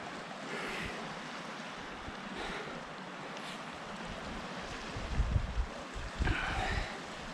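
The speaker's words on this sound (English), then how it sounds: "I can sit here until the waves slow down." Choppy waves slosh and lap against a canoe on a windy lake, a steady wash with low thumps and wind buffeting the microphone, no voices.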